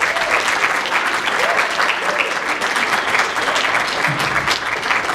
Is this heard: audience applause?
yes